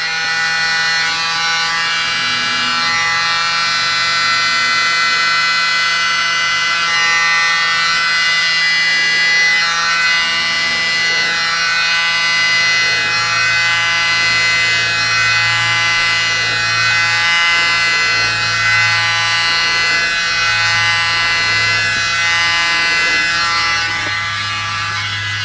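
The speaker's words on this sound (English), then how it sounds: "Grab our little mini blower." A small handheld mini blower runs steadily and loud for the whole stretch, a constant whirring drone used to dry thick paint colours poured over a thin pillow layer, with no talk over it.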